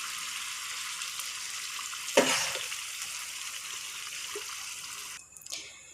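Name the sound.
pouring meat broth into rice for biryani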